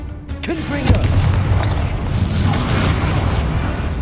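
Confringo fire spell explosion in Hogwarts Legacy, a deep booming blast that rolls out and lingers as a sustained rumble over several seconds, with brief voice sounds near the start.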